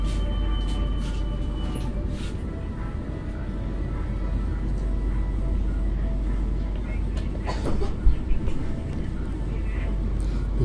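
Passenger trains at an Indonesian station, with the Menoreh train pulling out as the Gaya Baru Malam Selatan comes in: a steady low rumble of rolling stock throughout, with a brief louder clank near the end.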